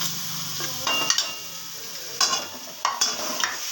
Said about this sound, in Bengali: প্রথমে বিটটাকে আমি একটু ভালো করে ভেজে নিচ্ছি